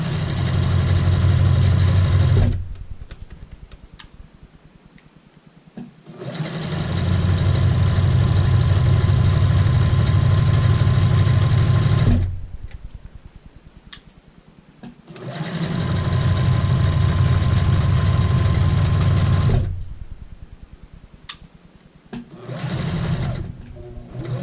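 A sewing machine runs in three long, steady bursts while stitching a child's shirt collar, with a brief back stitch, separated by short quiet pauses and clicks, loud and close.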